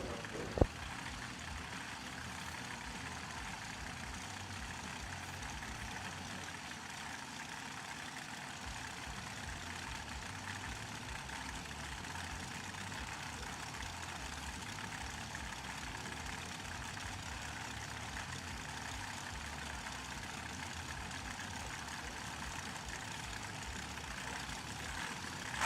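Drag race cars idle at the start line before a heads-up race at a $100K event: a steady, unbroken engine rumble that holds for the whole stretch, with one brief click near the start.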